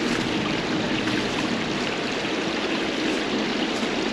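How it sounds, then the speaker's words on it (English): Steady rushing water from a small waterfall on a trail at Prompton State Park, a constant broadband splash with no voices, close and even in loudness. "a waterfall right up there."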